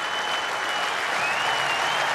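A stadium crowd applauds as a cricketer walks out into the arena, dense sustained clapping close and loud, with a faint tone running through it.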